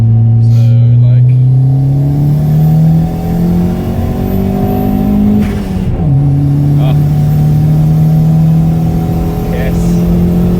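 A turbocharged Ford Figo engine revving under load as it climbs into boost, a loud steady drone that rises, drops at a gear change and builds again, with voices talking over it from inside the car.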